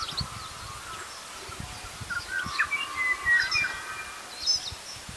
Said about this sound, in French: Le matin, on se réveillait avec le bruit des oiseaux.